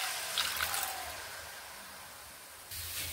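Water poured into a pan of frying vegetables for a paneer dish, a steady hissing rush with a brief splash near the start and a renewed surge of sizzle toward the end, alone and close.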